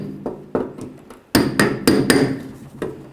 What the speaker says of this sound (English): continue on with a brass punch and a hammer